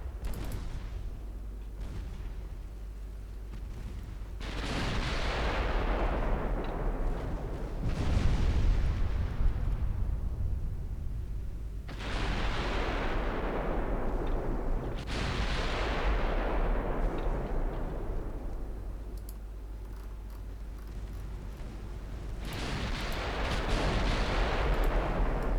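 Warship secondary guns in Ultimate Admiral Dreadnoughts fire in heavy booming salvos, five or so big blasts spaced several seconds apart, each rolling off into a long rumbling decay over constant low background noise.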